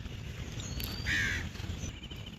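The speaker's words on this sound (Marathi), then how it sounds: "अनेक पक्षी आहेत, सकाळ सकाळचे" Crows caw in the morning in the green woodland of Aarey Colony, Mumbai, with a clear nearby caw standing out over soft ambient rumble and a few fainter calls.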